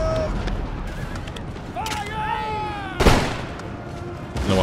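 Line infantry in Empire: Total War let off a musket volley, a sharp crackling burst that rises suddenly near the end amid battle noise, with a shouted voice and whistling tones nearby.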